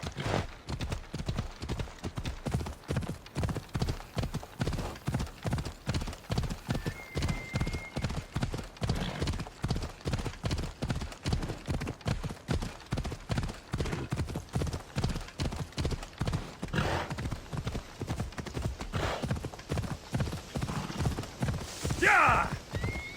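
Hooves of a galloping horse in Assassin's Creed Odyssey pound in a steady, rapid clip-clop rhythm throughout, loud and close, with a brief whinny near the end.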